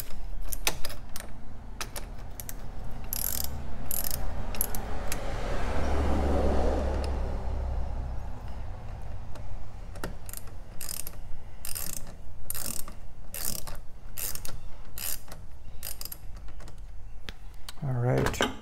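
Screws are unscrewed near the battery of a 2017 Toyota RAV4, with repeated ratcheting clicks and scraping handled up close, continuing under a steady low rumble in the background.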